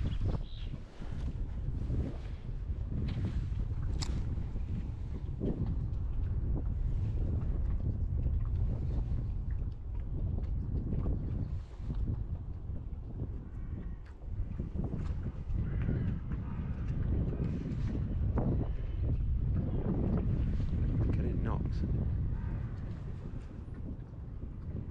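Strong wind buffeting the microphone beside a river while perch fishing, a loud continuous low rumble with gusty swells throughout.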